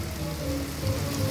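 Heavy rain falling in Puquio, a steady, dense hiss of drops beating on surfaces, continuous and fairly loud throughout with no voices.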